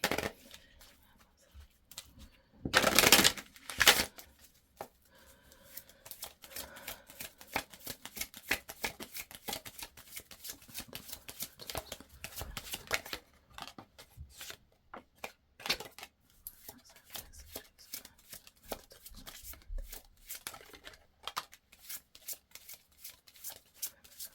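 A deck of chakra oracle cards is shuffled by hand in close, crisp riffling bursts, with one louder flurry early on and then a long run of quick rapid flicks and taps.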